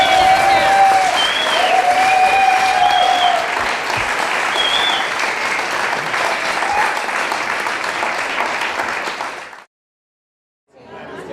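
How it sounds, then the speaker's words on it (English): Audience at the International Street Paper Awards applauding, a loud, dense, continuous roar of clapping with a few whistles on top, slowly easing before cutting off abruptly into silence, then resuming briefly. "the biggest applause is for the three ladies here"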